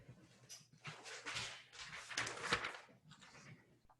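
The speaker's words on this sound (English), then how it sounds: "Dog was eating the attendance sheet." A dog indoors in a lecture room, making soft whimpering and panting sounds in short bursts with some rustling, fairly faint and close.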